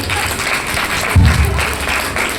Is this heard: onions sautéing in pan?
no